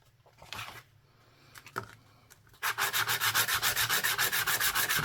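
Sandpaper rubs a coin pendant cut from a coin ring, first in a few scattered scrapes, then in fast, rhythmic back-and-forth strokes that are loud and close.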